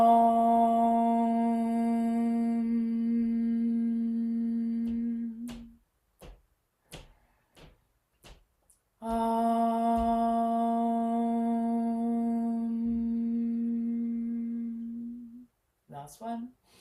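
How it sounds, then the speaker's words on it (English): A group chants Om during a gentle yoga practice: two long, sustained, resonant tones separated by a quiet gap with a few soft clicks, each swelling steadily and then fading out, heard close with no speech over them. "we'll breathe in and we'll chant Om, and we'll do that 3 times"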